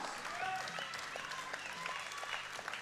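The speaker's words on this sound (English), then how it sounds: "The crowd is on their feet." Spectators at the men's 74 kg World Open Equipped Powerlifting Championships 2021 applaud and cheer during a 315 kg attempt, a dense, continuous wash of clapping and crowd noise from a large indoor audience.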